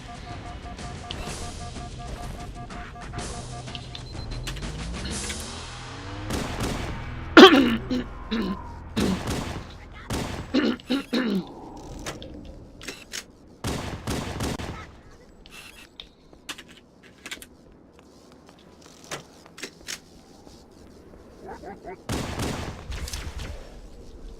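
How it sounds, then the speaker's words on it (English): Battle in Halo: Combat Evolved under heavy bombardment: bursts of rapid gunfire and sharp blasts crack out in clusters, loud and close, with quieter gaps between volleys, and someone talks briefly over the shooting. "right now I'm being bombarded"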